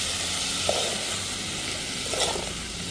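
Parwal (pointed gourd) stirred with salt, turmeric, garam masala and chili in plenty of oil over a traditional clay chulha, giving a steady close sizzle with a couple of brief scraping stirs.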